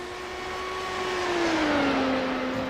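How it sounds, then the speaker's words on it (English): A Formula One car engine in a racing video game, heard from the front bumper camera as a loud, steady high-pitched whine that drops in pitch as the car slows into a corner. "Formula One car"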